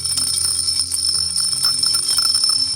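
A bell rings continuously and loudly throughout, a steady bright metallic jangle with no pauses, standing alone without speech, as a distraction during a sermon.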